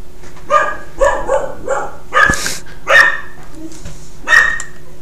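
A pet dog barks excitedly in a quick run of sharp, close barks, with a few louder yips standing out and short pauses between bursts; no one speaks.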